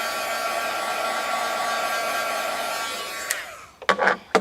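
An embossing heat tool drying ink on cardstock blows a steady loud whir for over three seconds, then cuts off, followed by a few brief clicks and knocks.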